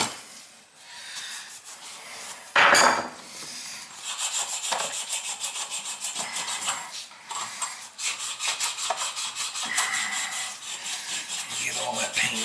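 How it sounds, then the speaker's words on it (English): Abrasive sanding strips paint from a cast iron pipe. Close, steady rasping strokes repeat continuously with a brief louder scrape partway through, and no voices. "Get all that paint off it before you start sanding it"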